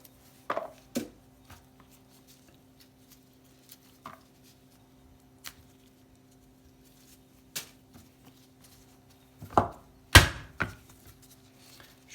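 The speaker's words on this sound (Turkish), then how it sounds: "şöyle kırma zeytin yapar gibi vurduğunuz zaman çekirdekleri kolayca ayrılır" Gloved hands strike fleshy olives to crack them and free the pits in a quiet home kitchen, producing a few sparse, sharp knocks spaced irregularly, with a louder cluster near the end.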